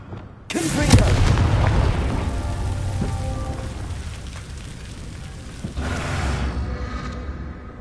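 A Confringo fire spell blasts in the Hogwarts Legacy video game on PS5: a sudden loud boom that rumbles and fades, followed by a second, softer blast a few seconds later.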